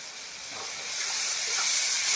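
Onions frying in spiced oil in a pan, a soft but steadily swelling hiss and sizzle that grows louder over a couple of seconds, with no voices.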